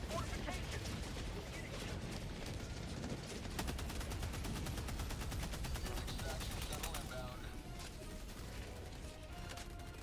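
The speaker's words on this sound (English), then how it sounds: "my turrets, my supply pod shoot back" Automated turrets and a supply pod open fire in a Warhammer 40,000 video game battle, giving a continuous loud mechanical rattle of gunfire mixed with clanking and whirring, with people talking over it.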